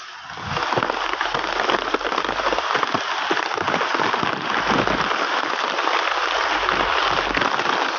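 Heavy rain pours steadily onto a surface, a dense continuous hiss with scattered crackling drops, loud and close with no voices.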